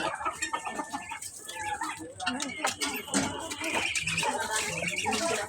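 Domestic chickens cluck in a yard where ducks and other birds also move about, with repeated close clucks and scattered calls while people talk nearby.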